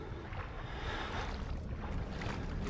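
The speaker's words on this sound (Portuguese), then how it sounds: "Ele tá andando na água" Footsteps wading through water in the horror game Outlast: a continuous, moderately faint sloshing and splashing with no voices over it.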